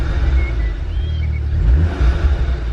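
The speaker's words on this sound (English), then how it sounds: "Let's give this a little rev, right?" A VW Scirocco fitted with a new aftermarket exhaust revs up with a loud, deep engine rumble and rising surges, sustained and close throughout.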